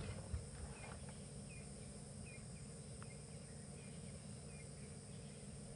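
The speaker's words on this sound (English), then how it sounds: "That, or they, are an insect called cicadas" Cicadas on an evening safari drive keep up a continuous, high-pitched droning buzz in the background, joined by faint repeated chirps, with no talking.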